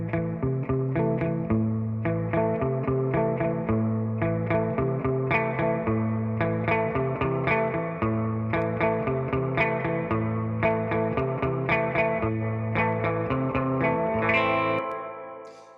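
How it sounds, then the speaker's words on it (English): Electric guitar played through a stock plug-in spring reverb, a steady rhythmic riff of repeated plucked notes and chords with a splashy, echoing tail, continuous and loud before ringing out at the end. "This is just a stock plug-in spring reverb"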